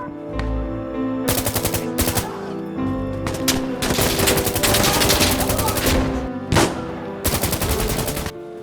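Sustained automatic fire from an L85A2 rifle in the video game Insurgency Sandstorm: loud, close, rapid bursts of shots with brief gaps between volleys, filling the whole stretch with no talk.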